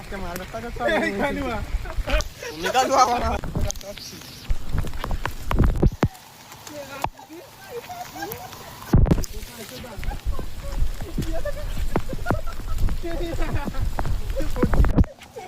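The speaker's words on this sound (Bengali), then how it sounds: "আমাদের এখানে প্রচন্ড বৃষ্টি হচ্ছে" Heavy rain falling outdoors, a constant patter and drumming on surfaces with scattered louder knocks, running beneath frequent close conversation for the whole stretch.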